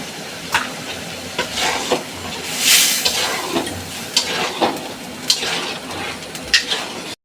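Lentils frying with ginger paste in a pan for a fish-head mashkalai dal, giving a steady close sizzle with repeated stirring scrapes and a brief louder burst midway, with no talking.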